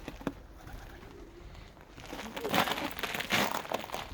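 Pigeons in a loft with their one-to-ten-day-old chicks, giving soft cooing and rustling that swell into louder fluttering and crinkling movement near the end, with no speech.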